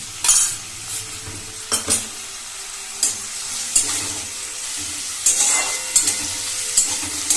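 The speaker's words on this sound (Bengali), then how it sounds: "এবার আমি তেলটা গরম হয়ে গেছে, এর মধ্যে কুচিয়ে রাখা পেঁয়াজগুলো ভেজে নেব।" Chopped onions frying in hot white oil in a kadai give a steady sizzle, with several sharp clinks and scrapes of a stirring utensil against the pan at irregular intervals.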